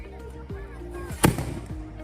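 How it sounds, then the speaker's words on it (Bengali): Fireworks going off at a rural fair during the Balagarh Rash Mela, with one sharp loud burst standing out amid background crowd noise and low rumbling, nearby voices mixed in. "এখন বাজি হচ্ছে এই যে মাথার পেছনে দেখতে বাজি পড়ানো শুরু হয়ে গেছে"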